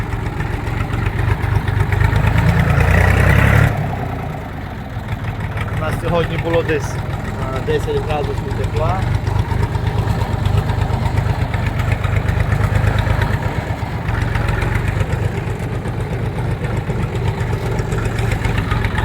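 A tractor engine idles with a steady low rumble throughout, close by, while someone talks over it.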